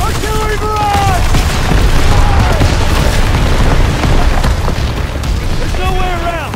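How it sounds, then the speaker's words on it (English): A Call of Duty WWII artillery barrage pounds continuously, heavy booming explosions rolling over each other, with whistling shells and shouted voices cutting through at the start and end. "Get down! Artillery barrage!"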